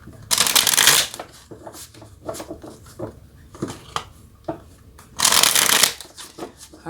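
Tarot cards shuffled and drawn: two loud riffling bursts near the start and end, with soft card handling and taps in between, nearby and without talk.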